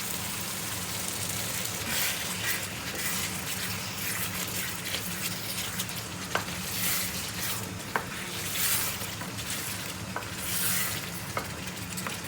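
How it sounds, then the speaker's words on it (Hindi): A spoon stirs chicken biryani curry with yogurt, fried tomatoes and onions in a pot. There is steady wet sizzling and scraping, with occasional soft clicks of the spoon against the pot. "चम्मच आपने इस तरह चलाना है कि बोटी टूटे ना"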